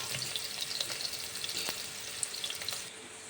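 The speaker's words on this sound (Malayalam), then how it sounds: "ആദ്യം ഇഞ്ചിയും വെളുത്തുള്ളിയും നമുക്ക് അതിലേക്ക് ഇട്ട് കൊടുക്കാം" Ginger and garlic frying in hot oil in a pan while making pickle, a steady close sizzle with faint crackles throughout, no talking.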